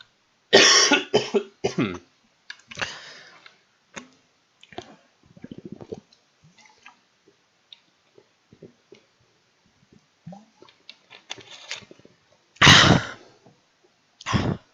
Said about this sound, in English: I'm coughing too much. I should drink something.